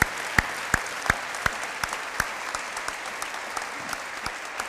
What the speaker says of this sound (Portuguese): Esta igreja sempre aplaude os decididos.